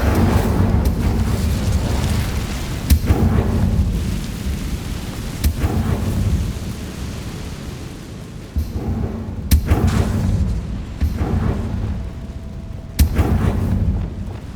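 Incendio fire spell being cast in the PS5 game Hogwarts Legacy: loud, dense rumbling blasts with several sharp booming bursts over a continuous roaring fire-like wash.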